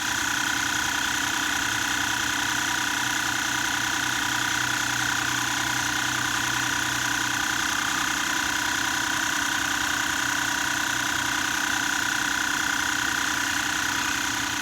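A 12V portable tyre compressor runs steadily outdoors, a constant buzzing mechanical drone with a dense rattling hum that holds level throughout, with no voices.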